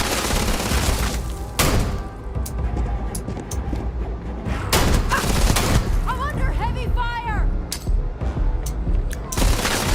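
Gunfire in Starfield, repeated sharp shots and bursts scattered through a firefight, loud and close, mixed with a voice talking throughout.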